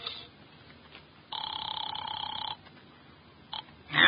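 A telephone in a radio drama rings once in a single sustained electronic burst, fairly faint, followed by a brief click and a clatter as the receiver is lifted, with no voices.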